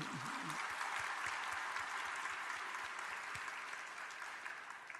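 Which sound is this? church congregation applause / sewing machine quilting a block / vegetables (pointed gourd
church congregation applause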